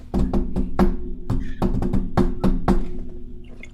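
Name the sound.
knocking on a wooden desk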